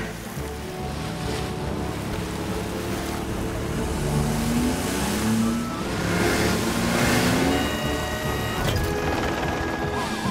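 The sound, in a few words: nurse's car driving toward the beach in a cartoon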